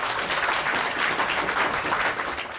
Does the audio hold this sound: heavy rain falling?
no